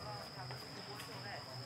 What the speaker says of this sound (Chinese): 草丛里的蛐蛐